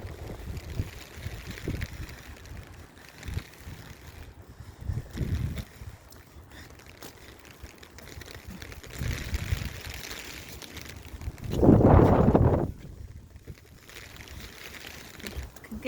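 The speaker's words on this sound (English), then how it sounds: "But the wind is so heavy" Strong wind gusts outdoors during icy cold rain, buffeting the microphone in uneven rumbling bursts with one louder blast near the end. No clear talk is heard.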